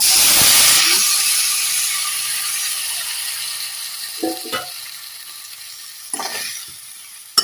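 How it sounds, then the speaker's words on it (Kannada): Boiled moringa drumsticks tipped into a pan of softened onions for drumstick sambar: a loud sizzle that fades steadily, then a few sharp clunks and clatters of pods landing in the pan, with no voices. "ನಾನು ನುಗ್ಗೆಕಾಯಿ ಬೇಯಿಸಿ ಇಟ್ಕೊಂಡಿದ್ದೆನಲ್ಲ, ಅದನ್ನು ಕೂಡ ಹಾಕ್ತೇನೆ"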